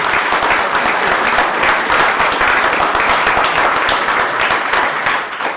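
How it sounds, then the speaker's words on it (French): An audience at a town medal ceremony applauds steadily, a dense wash of many hands clapping that holds at full strength throughout and only begins to thin at the very end. "Je peux l'applaudir."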